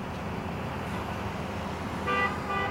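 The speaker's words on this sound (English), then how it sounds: "There are cars honking at him." Car horns honk in street traffic at a city corner, two short bursts near the end over a steady roar of passing vehicles.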